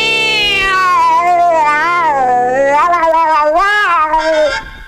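A cartoon dog yowls and meows like a cat, a loud, drawn-out caterwaul with wavering pitch that breaks into several short meows, heard up close and alone.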